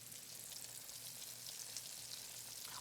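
Battered catfish fries in hot grease in a cast iron pan, a soft, even sizzle with a bright hiss, faint and continuous, heard close with no talking.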